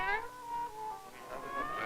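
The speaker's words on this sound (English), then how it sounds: "It is called a cat." A cat meows in a short, close call that rises and falls, heard on the soundtrack of an old 16mm film with faint hiss behind it.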